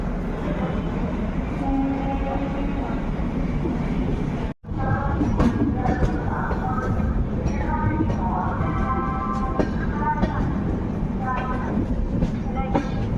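A passenger train pulls out of Hajipur station, a continuous loud rumble of rolling wagons with rhythmic rail clatter and squeals, heard close from on board with a brief dropout partway.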